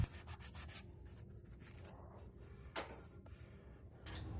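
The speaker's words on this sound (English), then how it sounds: "I had to fix that with one of my sanding sponges. I used a fine grit, and it was pretty easy to sand back" Faint, close rubbing strokes come from a fine-grit sanding sponge smoothing paint drip marks on a vintage Jenny Lind bed frame, in short repeated scrapes with brief pauses.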